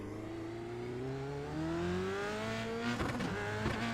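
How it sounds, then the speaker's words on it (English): An iRacing F3 race car engine in a video game revs steadily, its rising tones climbing as the car accelerates, with a couple of brief rougher bursts near the end. "It's got a nice engine sound."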